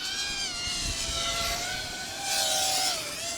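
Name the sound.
HGLRC Batman220 5-inch racing drone flying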